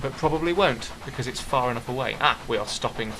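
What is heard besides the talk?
No everyday noises stand out.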